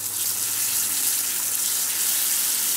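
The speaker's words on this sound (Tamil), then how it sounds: "எண்ணெய் நல்லா காஞ்சிட்டு இப்போ ஒரு கருவாடை போட்டுடலாம்." Dried ribbon fish (vaala karuvadu) frying in hot oil, a steady dense hiss and crackle that holds evenly throughout at close range, with no talking.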